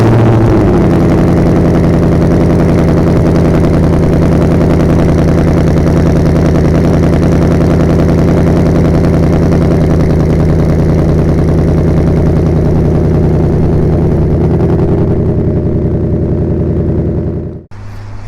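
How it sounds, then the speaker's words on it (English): A 2024 Ford Mustang GT Convertible V8 rumbles loudly and steadily at close range through its exhaust, a deep continuous idle that cuts off abruptly near the end. "Might as well give you a sound of what the exhaust sounds like."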